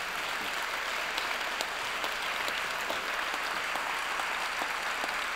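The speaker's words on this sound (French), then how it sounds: "On peut vous applaudir." Steady applause from an audience at a talk on international law and living together, a dense even patter of clapping that holds at moderate loudness through the whole stretch with no voices over it.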